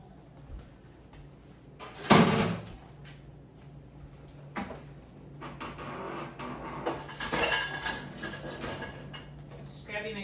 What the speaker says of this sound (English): Just grabbing a clean spatula.